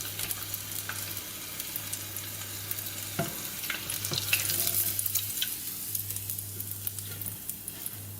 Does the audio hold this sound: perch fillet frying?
yes